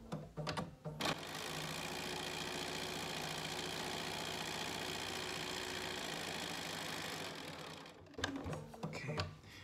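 A sewing machine runs in one long steady burst, stitching quilt pieces with a fast, even mechanical whir, bracketed by a few brief clicks and handling noises at the start and end.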